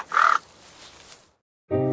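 A crow gives a single loud, harsh caw up close, followed by a stretch of quiet and then the start of a low, tonal voice.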